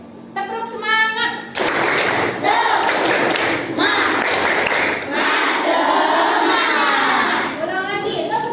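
A classroom group of children doing a rhythmic 'tepuk semangat' clap chant in an Islamic religious education lesson, loud, dense patterned clapping with thuds, mixed with children's voices chanting along.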